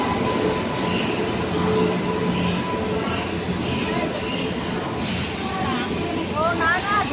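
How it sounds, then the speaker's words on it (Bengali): A train moves through a railway station near Alipur with a continuous rolling rumble and a few faint squeals, heard at a moderate distance beneath people talking. "ট্রেন একদম ভিতরে ঢুকে গেছে।"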